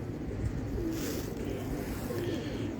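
Pakistani pet pigeons in a fancier's loft give two soft, low coos about a second and a half apart. The coos are faint against a steady background hum.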